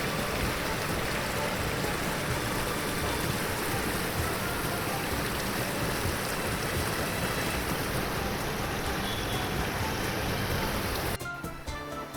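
River water trickles and splashes steadily into a small bamboo fish trap set in a stream, a continuous close wash of flowing water that cuts off abruptly near the end.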